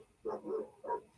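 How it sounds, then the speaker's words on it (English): A neighbor's dogs barking nearby: a few gruff barks in quick succession, fairly close and clear above a quiet room. "Neighbors' dogs are coming unglued."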